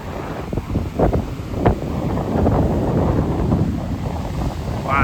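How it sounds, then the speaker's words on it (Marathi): Sea waves wash in at a rocky coastal fishing spot, a steady broadband surge with wind buffeting the microphone and a few louder splashes, no voices. "जागा तर जबरदस्त आणि लाटा पण तसेच येतात"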